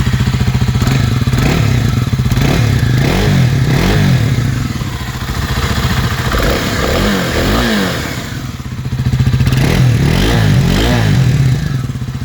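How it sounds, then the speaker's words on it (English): A 2024 Kawasaki KLX300 dirt bike engine with stock exhaust idles roughly and revs up repeatedly, loud and close, with a rattling, burbling exhaust note. "That is what she sounds like, stock exhaust."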